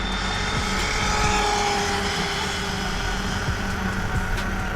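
Electric RC car on a 3S battery running at full throttle, a steady high whine with broadband motor and drivetrain noise, loud and continuous without letup.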